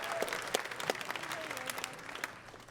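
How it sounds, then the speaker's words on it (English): Applause for a sponsor at a jazz education anniversary gala, a crowd clapping in a moderate, steady wash with some distinct claps and faint voices beneath, tapering slightly at the end. "Round of applause for Site Workshop."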